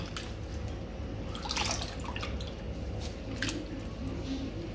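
Cut potato fries slosh and squish in water, with soft drips and splashes as they are rinsed, close and fairly quiet.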